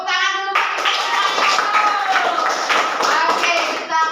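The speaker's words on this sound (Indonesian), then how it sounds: "Tepuk tangan dulu." A class of children claps together in a burst of quick, ragged applause in a classroom, loud and close, with some voices mixed in after a teacher speaks at the start.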